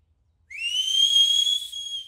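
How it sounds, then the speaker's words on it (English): A person gives one long, clear whistle, a steady high tone that starts abruptly after a brief silence and holds for well over a second in a children's animated farm scene. "Oh, can I do the whistling? I'm a very good whistler."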